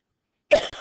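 A single short cough burst, close and fairly loud, followed by a brief second rasp, after a stretch of silence.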